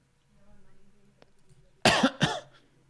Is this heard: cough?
yes